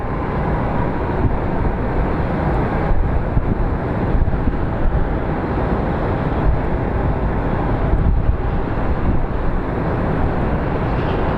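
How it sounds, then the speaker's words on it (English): Strong wind buffets the microphone at a busy airport, a constant loud rumbling roar with gusty flutter and faint engine noise underneath, and no voices. "I seriously feel like I'm gonna get sick from this freaking wind"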